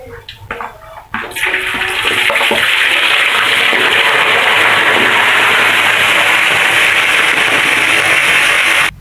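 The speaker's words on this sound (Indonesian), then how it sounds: "Sekarang kita goreng ikan asinnya lagi" Salted fish frying in a pan throws off a loud, steady, hissing sizzle that swells up after a brief quieter first second and holds without a break, with no talking.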